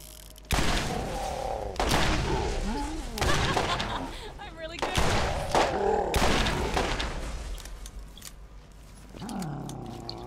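Gunfire against zombies in the video game Borderlands: a series of heavy booming shots and roaring impacts, loud and close, with a voice talking over the action.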